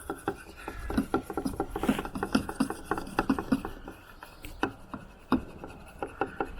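A stick stirs rust effect paint in a tin with rhythmic scraping and tapping against the sides, close and moderately quiet, with a short pause partway through.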